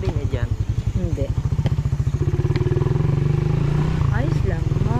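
A nearby motorcycle engine runs with a rapid, even low putter throughout, loud and close, while people talk over it.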